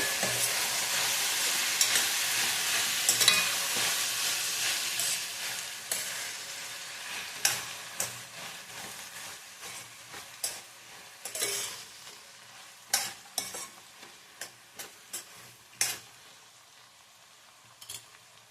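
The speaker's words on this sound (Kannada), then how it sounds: "ಎರಡು ಟೊಮೊಟೊ ಹಾಕ್ಕೊತಾ ಇದ್ದೀನಿ ಸ್ವಲ್ಪ ಫ್ರೈ ಮಾಡ್ಕೊಬೇಕು" Two tomatoes sizzle and fry in a pan for a seasoned leftover-rice dish, a steady crackle punctuated by sharp scrapes and clinks of stirring that grow sparser as the frying settles.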